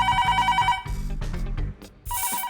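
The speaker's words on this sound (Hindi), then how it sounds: "क्यों बार बार बज रहे हो? देख नहीं रहे हो या कोई फोन रिसीव करने के लिए नहीं है?" An unanswered telephone rings in an office, a fast electronic trill that sounds in a burst, pauses briefly amid dull background thumps, then starts ringing again, loud and close.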